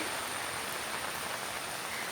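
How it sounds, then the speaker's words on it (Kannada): Light rain falls steadily outdoors on a farm in the Malnad hills, producing a soft, even hiss of drops with no other sounds. "ಈಗ ನೋಡಿ ಮಳೆ ಭಾರಿ ಜೋರು ಬರ್ತಿಲ್ಲ, ನಿಧಾನ ಬರ್ತಿದೆ"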